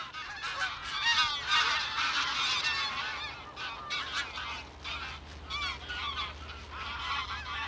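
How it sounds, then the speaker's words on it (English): A flock of geese honks in flight over a walking route in Sweden, a dense, continuous chorus of overlapping nasal calls, loud and close, with no speech. "They are summoning the geese."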